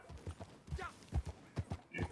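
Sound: horse hooves, from the video game Red Dead Online

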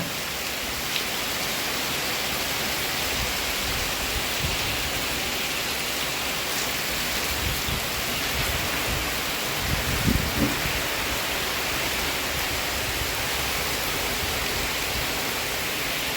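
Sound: heavy rain

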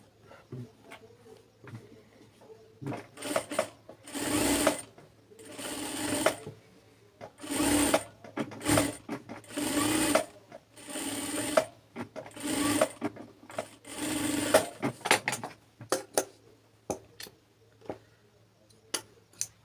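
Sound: sewing machine stitching a palazzo hem

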